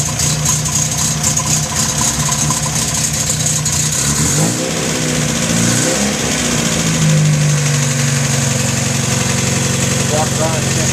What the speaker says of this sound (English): Starts right up to the cold. Idle should settle in once it gets warmed up.